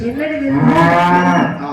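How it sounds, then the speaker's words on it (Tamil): A cow lets out one long, loud, close moo that swells and fades over nearly two seconds, with no other sounds. "மாடு கத்திருச்சு."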